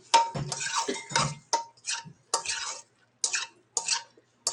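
Ahi poke ingredients tossed together in a bowl, giving a series of short, close clicking and scraping stirs in uneven bursts with brief pauses between them.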